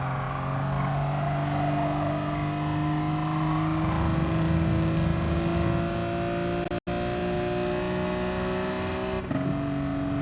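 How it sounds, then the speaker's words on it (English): A racing car engine in Gran Turismo Sport at Laguna Seca drones steadily, its pitch shifting as the throttle is worked to rotate the car, with a brief cut-out partway through and a sudden drop near the end. "Listen carefully to the throttle control and how it is being used to rotate the car."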